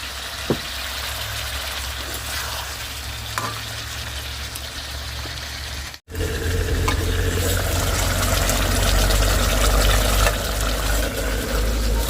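Spices, onion and potato frying in a pan, a constant close sizzle with a low rumbling hum underneath, briefly cutting out midway before returning louder and fuller.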